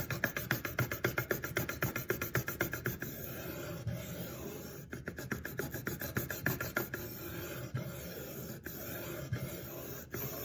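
A Spyderco Sage 5 Lightweight knife blade is stroked across a 600 grit whetstone in rapid rhythmic rasping passes, close and clear, with fast regular scrapes early and slower, more spaced strokes later.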